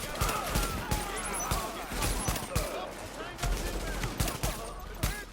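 Rapid bursts of automatic gunfire in the video game The Division crackle in repeated volleys, sharp and close, with short gaps between strings of shots and echoing reports underneath.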